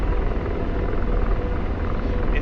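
An AH-64 Apache helicopter in a flight simulator game, its dense rotor and turbine roar steady and loud throughout, with no talk over it.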